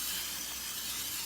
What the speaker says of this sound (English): So I'm gonna spray the pan.